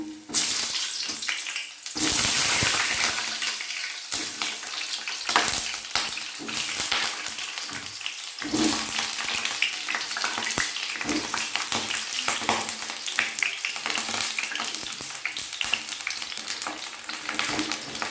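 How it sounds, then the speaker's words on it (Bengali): Peeled pointed gourds (potol) sizzle in hot oil over a medium flame, a loud, steady broadband frying hiss with crackles and spatters throughout. It swells into a brief louder burst near the start, likely as more pieces drop into the oil, with no talking. "এই পটলগুলো মিডিয়াম ফ্লেমে 4 থেকে 5 মিনিট ধরে ভেজে নেব।"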